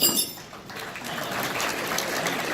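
Audience applause fills the room as steady, dense clapping from many hands, continuous and moderately loud throughout.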